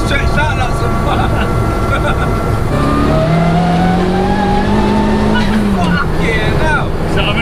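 Turbocharged 340bhp Peugeot 106 driven hard, engine droning loud and close inside the cabin with a rising pitch under acceleration, with people talking over it.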